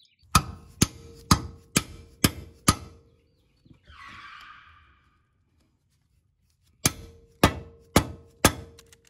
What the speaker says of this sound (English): coming back in with the hammer little by little, just making sure you're always hitting that spot